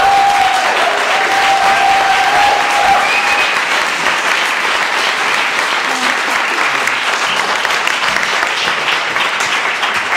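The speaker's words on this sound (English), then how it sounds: "please can we have a huge round of applause for them" A large audience at an evening book talk breaks into loud, continuous applause for the curators, a thick wash of clapping that stays full for several seconds, with a faint tone briefly audible early on.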